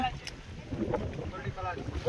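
Strong wind gusting across an open village wetland before rain, a steady roaring buffet on the microphone with faint voices now and then beneath it.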